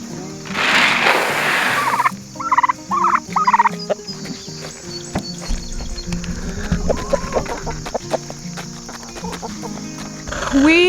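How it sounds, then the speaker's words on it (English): Several farm turkeys gobble and cluck loudly nearby in a burst of overlapping calls, then scattered quieter clucks and farmyard noise follow. "Those are our Thanksgiving turkeys."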